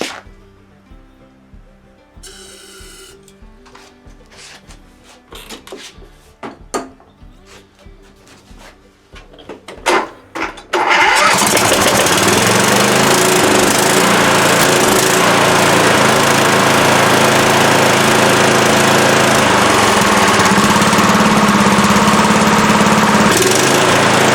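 Pull-starter tugs and sputters from an MTD Gold lawn mower's small engine, a string of scattered attempts, then it catches and runs loud and steady close by for the rest.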